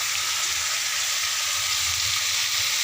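Eggplant and other vegetables frying in a pan, a loud, steady, close-up hiss and sizzle throughout with no talking.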